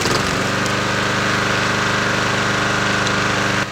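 A small lawn mower engine runs loud and steady as an RC Traxxas X-Maxx truck pushes the mower across a lawn, its harsh buzzing drone continuous throughout with no talk.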